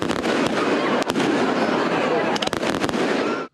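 A New Year fireworks display crackles and bangs continuously, with dense overlapping pops and several sharper close bursts, loud and near, with a voice talking underneath before the sound cuts off abruptly.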